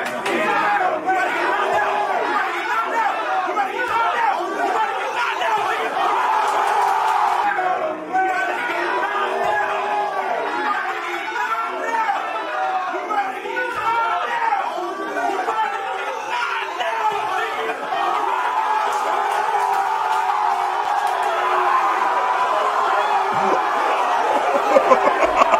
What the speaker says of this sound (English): the whole crowd is hype